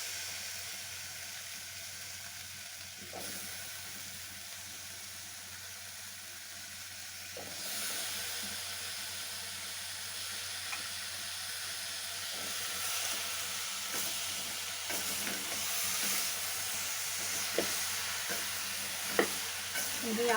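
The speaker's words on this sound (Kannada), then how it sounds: "ಸ್ವಲ್ಪ ಕಮ್ಮಿ ಫ್ಲೇಮಲ್ಲಿ ಇಟ್ಕೊಂಡು ಬಾಳೆಕಾಯಿನ ಹಾಕಿ" Raw elakki plantain pieces fry on a low flame in a pan with spices, giving a steady close sizzle with occasional scrapes and clicks from stirring. No voices are heard.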